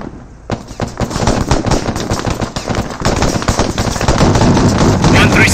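Heavy automatic gunfire during military convoy training, loud rapid bursts and overlapping shots forming a dense, continuous rattle that swells after the first half second, with voices shouting faintly beneath.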